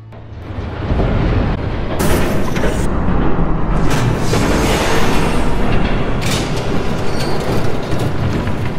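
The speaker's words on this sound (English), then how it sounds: "There's a train coming." A train approaching in the Batman Telltale video game, a loud, continuous rumbling roar that holds steady throughout, with sharp clanking bursts on top and no talking.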